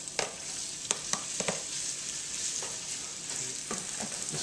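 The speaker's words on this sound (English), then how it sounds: "Got a nice little sizzle going." Shrimp sizzle in a pan over medium-high heat, with a continuous close hiss of frying broken by scattered crackles and pops throughout.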